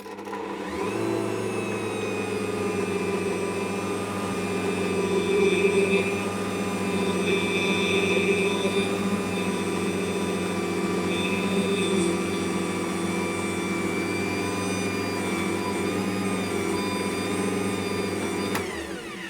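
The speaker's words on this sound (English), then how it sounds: "I'm going to just mix that on a low speed to start with" An Ankarsrum stand mixer runs on low speed mixing bread-roll dough into a shaggy mass, a loud steady motor whine with a constant hum that stays even throughout before cutting off at the end.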